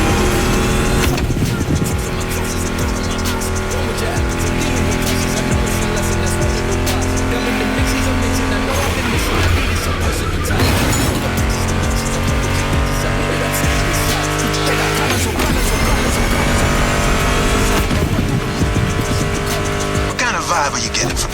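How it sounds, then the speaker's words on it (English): Loud muscle car engines, including a Mustang GT, roar and rev continuously with tire squeals in the game The Crew Motorfest, mixed under driving music and voices throughout. "Meshes well with the sound of the engines"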